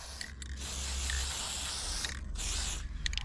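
Machine parts on a curb machine being sprayed during maintenance, a continuous close hiss of aerosol spray in bursts, with brief mechanical clicks between sprays.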